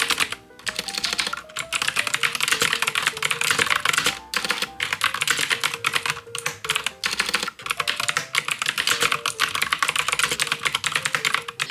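Continuous fast clicking on a computer keyboard, typed with long extension nails, a steady close patter of keystrokes with brief pauses and no talking.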